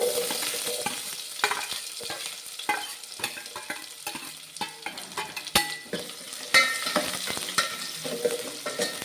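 Chopped onions and curry leaves fry in hot oil as a tempering for a broad bean and potato sambar, crackling steadily with bursts of sharp spatter and scraping stirs, close and fairly loud, with no talk.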